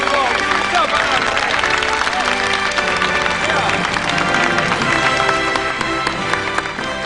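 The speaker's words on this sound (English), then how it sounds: "Give yourself a nice round of applause." Dense audience applause and clapping from a crowd, steady and loud throughout, with a murmur of voices and cheering mixed into the sustained roar of hands.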